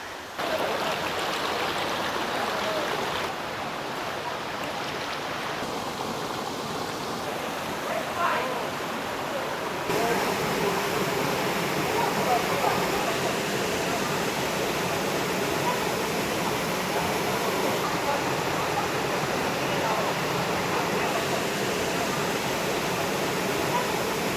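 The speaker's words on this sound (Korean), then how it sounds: "파도 소리가 아닙니다. 이거 폭포 소리인데 얼른 가세요." Constant rushing roar of a valley waterfall at a summer campsite, broad and steady throughout, with a person's voice faintly under it.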